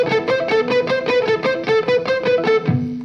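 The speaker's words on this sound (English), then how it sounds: "this is basically unintentional staccato, and I call this the staccato trap" Electric guitar picks a quick run of evenly spaced, clipped notes, each cut short rather than ringing, played close and fairly loud.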